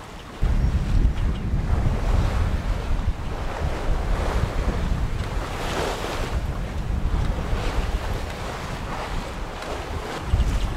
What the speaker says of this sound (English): we're riding up and down some nice Atlantic swell. Big rolling swell,